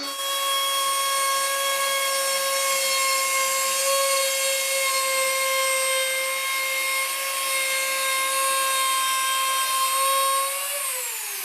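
A router machine carves a decorative design into a wooden door, its steady high-pitched whine running evenly for the whole stretch before dropping slightly in pitch at the end, with no talking.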